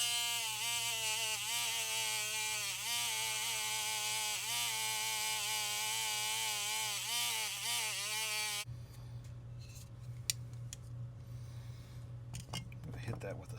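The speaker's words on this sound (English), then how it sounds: "We'll go back to the wire wheel," A motorized wire wheel grinds against a Lionel 675 locomotive part in a workshop, a steady, harsh metallic whine with wavering pitch as pressure shifts, then cutting out and leaving faint clinks and room noise.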